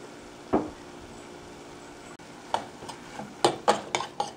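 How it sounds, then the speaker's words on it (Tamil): A coarse paste of garlic, pepper, cumin and red chilli being sautéed for garlic rasam, with a soft sizzle under a few sharp spoon knocks and scrapes against the pan, clustered toward the end. "இதையும் போட்டு லைட்டாக ஒரு வதக்கிட்டு"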